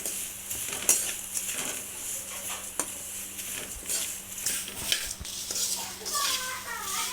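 Spicy jowar flakes being stirred in a pan, with a spoon repeatedly scraping and clinking against the metal under continuous talking and a voice.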